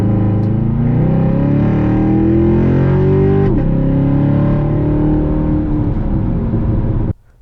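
Chevrolet C7 Corvette Stingray Z51 V8 revving and accelerating hard, a loud sustained engine roar climbing steadily in pitch with a brief gear-change dip midway, then cutting off abruptly at the end.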